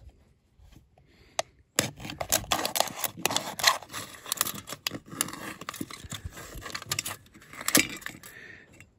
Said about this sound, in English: And then I like to cut the bottom off.